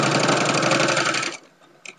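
A sewing machine runs in a fast, loud, even chatter while stitching fabric squares for a tag blanket, then stops abruptly, leaving a faint click afterward.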